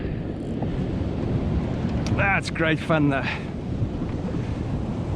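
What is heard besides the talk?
ocean surf waves and wind at the beach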